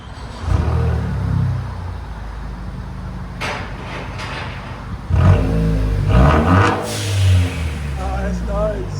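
A straight-piped, turbocharged Ford Fusion SE with a 2.0L engine is revved in short, raspy bursts, a deep roar rising and dropping nearby, with people talking around it.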